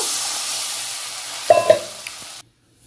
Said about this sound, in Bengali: মশলা থেকে তেল ছাড়ার পর বন্ধুরা ভাজা পনির আলু আর মটরশুঁটিটা দিয়ে দিলাম